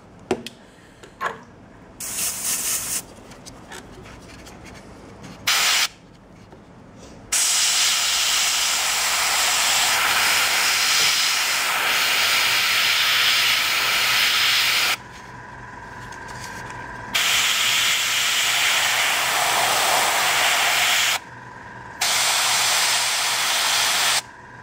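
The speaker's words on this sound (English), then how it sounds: "I'm doing now white highlights with airbrush." An airbrush sprays white paint highlights onto a Lizardmen Bastiladon miniature, giving off long, steady airy hisses close by, broken by short pauses and brief bursts between passes.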